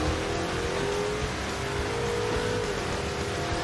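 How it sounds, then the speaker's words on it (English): A muscle truck doing a tire burnout on a drag strip, a steady loud roar of engine and spinning tires that holds without a break throughout, with no voices. "So I got a burnout this time."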